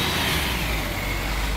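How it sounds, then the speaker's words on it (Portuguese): Bus noise on Avenida Paulista in São Paulo: a steady, loud broadband roar of city traffic and engine rumble, continuous with no pauses and no voices. "Barulho de ônibus"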